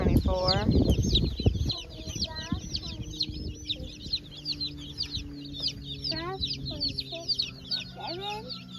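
Egg-laying and meat chickens cluck and chirp continuously around a backyard flock in fall, with busy overlapping calls close by and someone talking intermittently underneath.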